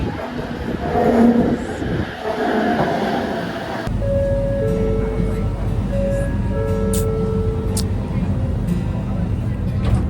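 An LRT train rumbles in close to the platform near Masjid Jamek, then sustained electronic chime tones sound over the steady low roar, with people talking nearby.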